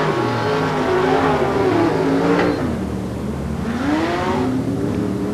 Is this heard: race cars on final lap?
yes